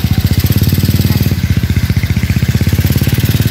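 A single motorcycle engine putters loudly and steadily close by, with a fast regular firing rhythm, ridden by young people cruising around near a beach resort.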